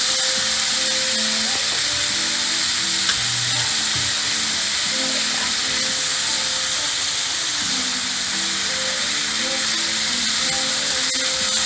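Gulf shrimp frying in a pan give a steady, dense sizzle and hiss that runs unbroken throughout, close and loud, with faint clatter underneath.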